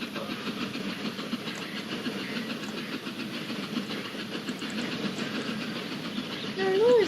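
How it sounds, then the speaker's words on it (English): A heavy goods train with about fifteen wagons rolls slowly past, a steady broadband rumble with faint clickety-clack and hiss holding at one level throughout, swelling slightly at the very end. "It always went slow as he was pulling heavy goods trains."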